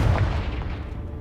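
Confringo blasting spell going off in the Hogwarts Legacy video game, a heavy booming explosion with a deep rumbling body that fades out over about a second.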